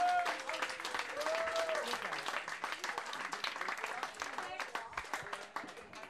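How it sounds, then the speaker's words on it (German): Audience applause at an outdoor summer festival with live acts, dense clapping that starts strong and thins toward the end, with a voice briefly heard over it at the start. "Großer Applaus nochmal für Sie."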